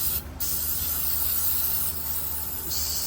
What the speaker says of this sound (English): Spray the threads out real quick with some brake cleaner.